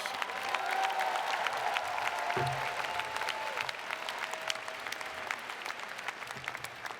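Sustained applause from a packed commencement crowd honoring parents and families at a University of Maryland spring graduation, a dense steady wash of clapping with light cheering throughout.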